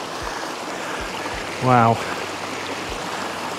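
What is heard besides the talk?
small waterfalls and stream on a hillside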